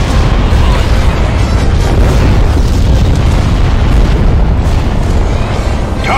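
Starship weapons fire and explosions in a Star Wars space combat video game make a dense, continuous rumble of booms and blasts, loud and heavy throughout.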